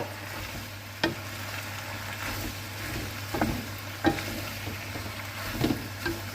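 Pasta being stir-fried Thai-style with holy basil and minced pork: a steady low sizzle with scattered scrapes and clinks of a utensil against the pan, near and moderate in level, with no talking.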